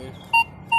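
A Minelab Vanquish 540 metal detector sounds two short, clean, identical beep tones about a third of a second apart as it passes over a $2 coin, each tone loud and steady over quiet background.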